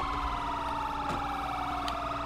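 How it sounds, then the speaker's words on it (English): Sheriff's Silverado police siren in GTA V FiveM roleplay, a loud continuous wailing tone sliding slowly downward over a steady engine drone, sounding close and alone. "Alright, let's do a siren check."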